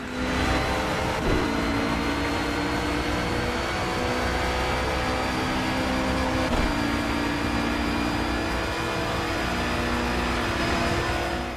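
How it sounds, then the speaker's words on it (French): GT4 race cars, including an Audi, passing in Project CARS during the 24 Hours of Le Mans, a steady engine drone with two quick pass-by sweeps early and midway, no talk. "La GT4 qui passe bien. Une seconde Audi."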